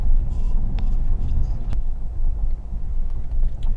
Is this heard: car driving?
yes